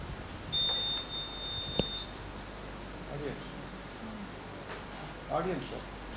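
A quiz-show buzzer pressed by a team during a grand finale, giving one loud, steady electronic tone for about a second and a half before people talk quietly in the hall.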